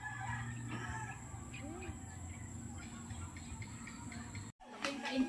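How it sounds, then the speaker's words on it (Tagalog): A rooster crows faintly in the distance amid outdoor background noise, with some scattered clucking and shuffling sounds. "dito naman kayo magtingin ng manok"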